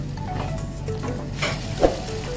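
A little water goes into a pan of vegetable stew (sayur lodeh) with coconut-milk curry, giving a soft, steady sizzle and bubbling, close by, with one brief clink of a utensil against the pan.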